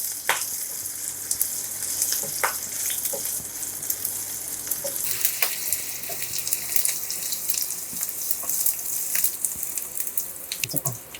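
Steady crackling sizzle of ingredients frying in a pan until golden brown, for a jackfruit mustard curry, with sharper pops scattered through a constant hiss and no voices.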